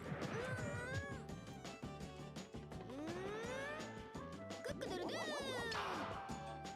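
A small kitten creature meows in a video game as it hatches from an egg, its rising and falling electronic cries mixed with busy game music and effects throughout.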